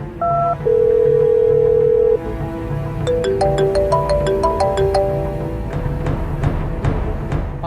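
Phone call being placed: a few loud keypad tones and a long steady tone, then a melodic ringtone plays repeatedly, clear and close with no voices.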